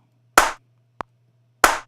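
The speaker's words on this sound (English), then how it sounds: "next thing is simple claps" Two dry electronic clap samples from a Logic X beat sound about a second and a quarter apart, crisp and close, with a tiny click between them over a low steady hum.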